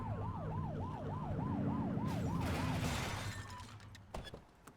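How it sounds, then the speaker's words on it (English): A police siren in The Precinct video game wails in a rapid rising-and-falling cycle for about three seconds, loud and close, then cuts off, leaving a few sharp knocks and clatters. "Get behind them and flip the siren and make them pull over."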